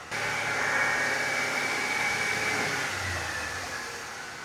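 The engine of a 1996 Mercury Cougar XR7 holds a raised, steady rev with its throttle pinned, whirring loudly and evenly before easing off toward the end, with no talk.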